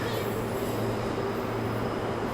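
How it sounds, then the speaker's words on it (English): Steady low rumble of a train in a train station, with a constant mechanical drone and faint background murmur. "We're in the train station on the way to the place"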